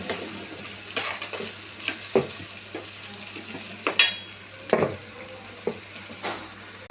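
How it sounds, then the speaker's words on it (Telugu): Eggplant pieces tumble into a pan of frying potatoes, giving a soft sizzle broken by sharp, scattered clatters of stirring, close and moderately loud. "వంకాయ వేసేస్తున్నాను. ఇప్పుడు వంకాయ ముక్కలు"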